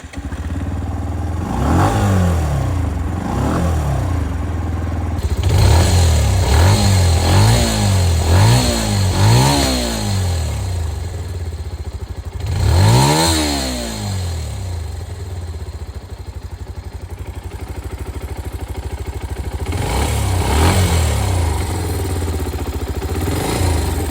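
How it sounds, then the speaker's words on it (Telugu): A motorcycle in the UK revs repeatedly from idle, with several quick throttle blips in a row, then a few longer, louder revs, each rising and falling, close and alone without talk. "ఒక్కసారి బైక్ సౌండ్ వినండి."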